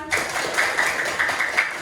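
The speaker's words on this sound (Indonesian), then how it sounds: "Tepuk tangan." Children in a classroom clapping together after a lesson, a dense, fairly loud burst of applause that continues for a couple of seconds.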